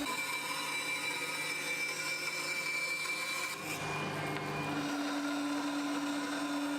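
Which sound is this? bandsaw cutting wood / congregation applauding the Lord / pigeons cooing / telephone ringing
bandsaw cutting wood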